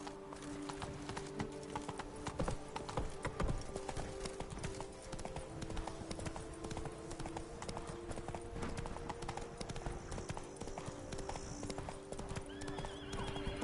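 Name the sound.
horse Roach galloping in video game The Witcher 3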